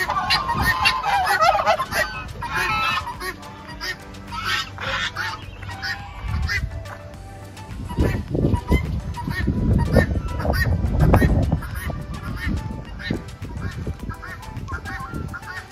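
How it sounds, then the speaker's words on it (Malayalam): Ducks and chickens at a hillside farm in Idukki give out honking quacks and clucking calls, loud and close at first, then fainter under a heavy low rumbling of wind. "പാത്ത കോഴികള്."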